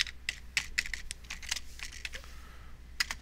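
Fingers tap steadily across a computer keyboard, producing close, crisp, irregular clicks in small bursts over a faint background hum, with no voices.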